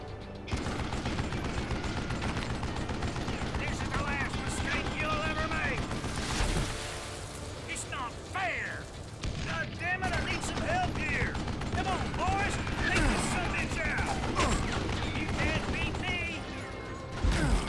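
Old West gunfire in the Call of Juarez Gunslinger video game crackles in repeated volleys and scattered shots with mechanical clicks, fairly quiet overall, while players talk over it.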